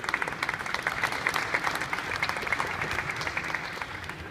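Steady crowd applause at a boxing post-fight press conference after the Bernard Hopkins and Kovalev fight, dense clapping holding at an even level throughout.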